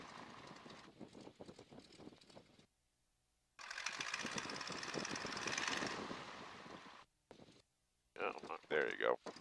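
A Stearman N2S-3 biplane's radial engine runs up in bursts, a loud sustained drone cut by brief drops to near silence, with a rising whine near the end.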